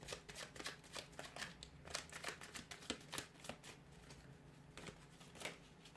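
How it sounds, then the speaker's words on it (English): Rapid riffling bursts of cards being shuffled, repeated in quick crisp flurries at close range with no talking. "We'll go ahead and give the cards a shuffle."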